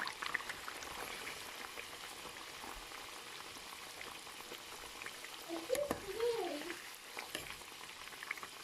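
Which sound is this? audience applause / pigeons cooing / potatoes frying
potatoes frying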